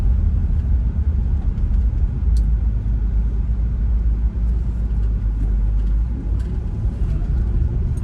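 A truck drives along a bumpy road with a constant low engine and road rumble, a few faint rattles and knocks over the drone.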